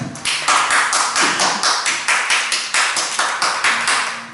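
Rhythmic, loud clapping in a steady beat at a church service, several pairs of hands clapping in unison close by, with no talking.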